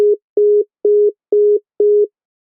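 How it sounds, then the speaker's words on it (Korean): A phone line goes dead after a call is cut off, leaving a busy tone: five even, steady beeps with equal short gaps, clear and close with nothing else around them. "전화가 끊어졌어요."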